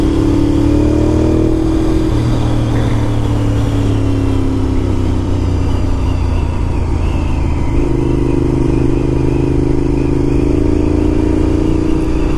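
A 2001 Honda RC51 sport motorcycle on a road test ride, its engine droning steadily and loud throughout with rising and falling pitch as it shifts and accelerates, wind noise mixed in.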